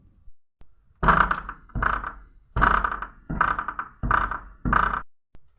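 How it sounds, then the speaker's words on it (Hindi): A monster pulls at a door and smashes it in, a sound effect for a horror story: six heavy, booming wooden thuds in an uneven rhythm, loud and close, with no voices. "वो दैत्य दरवाजा तोड़ देता है"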